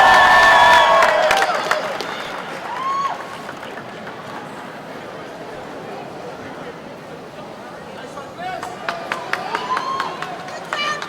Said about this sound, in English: please give a big round of applause for 2013 MVP final presented by AirAsia, Chris Banchero